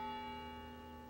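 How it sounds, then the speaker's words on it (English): A single church bell sounds at a graduation memorial, its sustained ringing tones slowly decaying over about a second. "The tolling of the bell brings to mind the words of John Donne"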